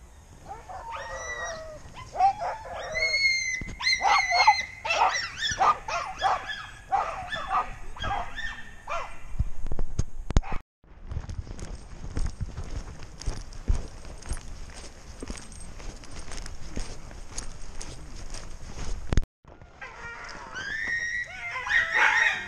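A hunting dog on a driven wild boar hunt in brush, barking and yipping in rapid excited bursts, up close and loud, with rustling footsteps and crashing through undergrowth between the barks.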